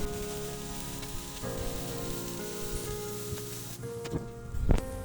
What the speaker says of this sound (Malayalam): 1 ടേബിൾ സ്പൂൺ ചില്ലി ഫ്ലേക്സ്, ആവശ്യത്തിന് ഉപ്പ്, ഇതൊന്ന് നല്ലോണം വഴറ്റി കൊടുക്കാം